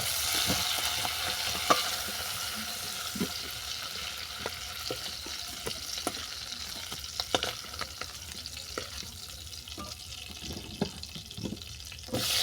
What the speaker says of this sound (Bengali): এই তেলের মধ্যে চালটাটাকে ভেজে নেব